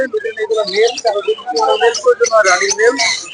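Lovebirds at the Mirpur bird market chatter with quick, high chirps and tweets throughout, close by and fairly loud, mixed in with someone talking.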